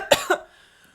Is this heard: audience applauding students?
no